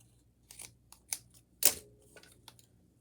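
Scissors snip a paper die-cut piece for a card in a few short, close crisp cuts, the loudest snip near the middle, with soft paper handling between them.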